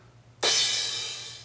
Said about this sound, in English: It's a little more natural than a 909 crash cymbal, which actually sounds like this.